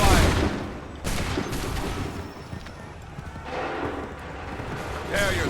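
A musket volley in the Assassin's Creed III Remastered campaign, with loud bursts of gunfire among horse hooves and battle noise, and shouted voices over the top.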